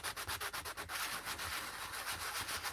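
Rapid scratchy rubbing of an emery board, steady back-and-forth strokes close up, a little quicker at first, with no talking.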